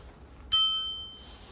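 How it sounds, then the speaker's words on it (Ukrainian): An electric scooter's bell gives one bright metallic ding that rings out and fades over about half a second, close and clear against a quiet background. "Тут дзвоник його."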